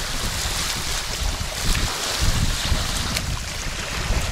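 Ocean waves at the coast: a constant loud wash of surf mixed with heavy wind buffeting the microphone, steady throughout with no voices.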